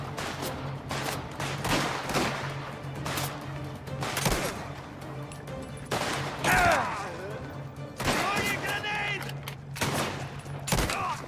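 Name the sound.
gunfire in the video game Mafia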